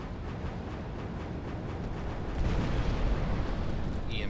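Missiles launch and explode in the space strategy game Final Theory, a sustained low booming rumble of blasts that swells louder midway, with no talk over it.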